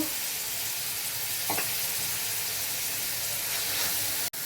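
Chicken fries in a pan as spices such as salt and turmeric go in, a close, continuous hissing sizzle that holds steady the whole time, with no voices.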